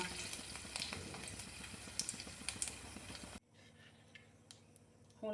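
Red chillies crackle and spit in hot oil with carom seeds for a taro curry tempering, a dense close sizzle with sharp pops that drops to a quieter simmer partway through.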